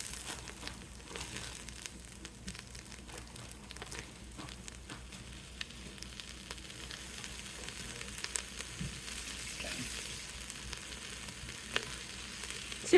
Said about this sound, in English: Let's add in the rice and get that a little bit toasted.